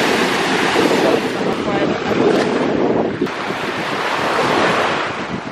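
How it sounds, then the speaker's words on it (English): Strong wind buffets the microphone on a Caribbean beach in Anguilla while surf rolls in beneath it, a loud, continuous roar with gusty surges and no clear pauses. "Yeah, it's really windy"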